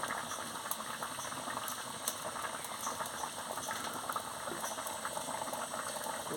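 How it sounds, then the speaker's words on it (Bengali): Fish curry broth bubbles at a rolling boil in a pot, a soft, steady, close crackle of popping bubbles with no talk. "এবারে টকবক করে ফুটে গেছে, আমি মাছটা দিয়ে দিচ্ছি"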